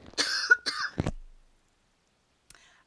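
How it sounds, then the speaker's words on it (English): A short run of close, harsh coughs, three quick bursts within about a second, followed by silence and a faint small sound near the end. "I just coughed"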